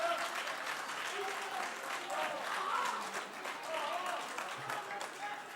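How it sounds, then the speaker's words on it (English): Applause rings through a parliamentary chamber during a State of the Nation Address debate, a steady, dense patter of many hands that holds for the whole stretch, with voices mixed in underneath. "Thank you to the EFF for your applause."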